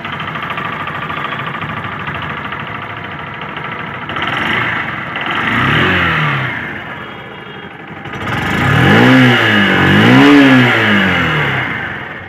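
A 2023 Honda Shine 100cc motorcycle engine idles steadily, then is revved in two short throttle blips before settling back, close and loud, with no talk.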